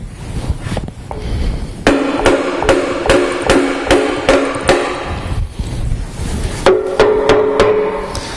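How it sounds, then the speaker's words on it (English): Hammer tapping the timing cover off a Triumph Stag engine during a timing chain replacement, a series of sharp metallic knocks in irregular bursts, close and loud, with short pauses between groups. "Now we can tap the cover some more."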